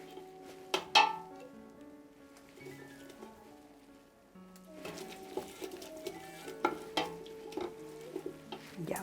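Crushed chacú and merquén fry in a pot for a chicken cazuela, with soft sizzling under clinks of a spoon and metal pot, stirring scrapes, and two louder clatters.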